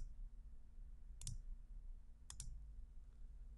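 A computer mouse gives two quick double clicks about a second apart, crisp and close against a quiet, faintly humming background.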